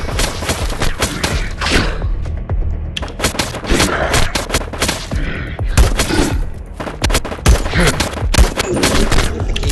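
Rapid bursts of video game gunfire at an enemy, with dense overlapping shots, thumps and booms packed tightly across the whole stretch, loud and close.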